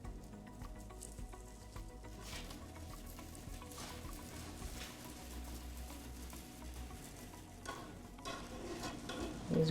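A protein pancake with cottage cheese cooks in a pan, a low continuous sizzle under light stirring and scraping sounds, with a louder clatter at the end.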